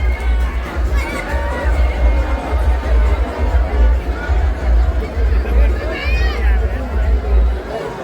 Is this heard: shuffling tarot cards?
no